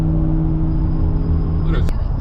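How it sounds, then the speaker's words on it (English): A truck rolls by on a Connecticut highway during a road trip, its steady low engine drone and tire rumble filling the stretch, heard from inside a moving car with a brief sharp rattle near the end. "Look at that truck."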